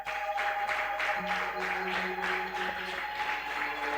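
A church congregation at a Sunday praise and thanksgiving service claps in a steady rhythmic beat, moderately loud, with a sustained musical tone running underneath.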